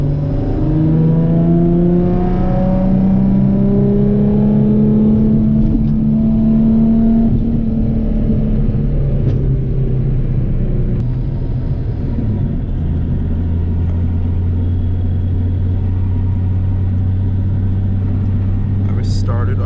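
A car engine pulls at wide open throttle, its loud rising drone sweeping upward over several seconds, then dropping back to a deep steady rumble; a voice speaks briefly over the engine.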